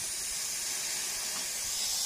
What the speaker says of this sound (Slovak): Teraz vyfučí klíma